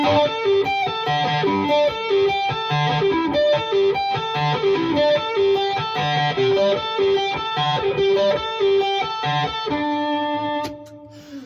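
A heavily distorted electric guitar, a Les Paul through a Marshall, plays a chugging riff of power chords and melodic notes, loud and sustained, ending on a ringing held chord.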